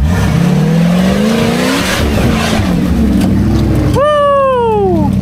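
A four-wheel-drive off-road buggy revs hard and loud through mud, its engine climbing in pitch over several seconds before a sharp rising whine near the end, with a voice talking over the racket.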